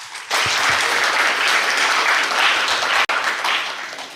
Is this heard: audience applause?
yes